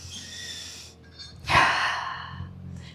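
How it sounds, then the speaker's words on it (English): Deep breathing during yoga stretches: a slow, soft exhale, a brief pause, then a stronger, audible breath drawn in close by, with no talking during it. "One more deep breath."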